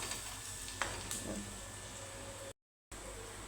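An egg dish seasoned with salt fries in a pan, giving a continuous close sizzle with a few sharp stirring clicks, then a brief silent gap before the sizzling resumes.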